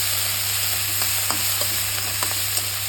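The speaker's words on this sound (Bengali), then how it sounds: "তাহলেই হয়ে যাবে সুন্দর স্বাদের চিংড়ি মাছ ভাজা" Shrimp fry in a pan with a little chilli powder and a splash of water, giving a constant close sizzle over a low steady hum, with light stirring taps scattered through and no speech.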